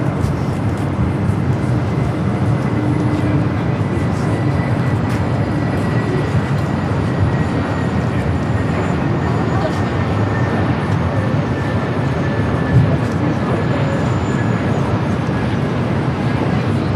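LOT Polish Airlines Boeing 787 Dreamliner jet at LAX, a steady loud roar of engines that holds for a long stretch, heavy rumbling noise without a break.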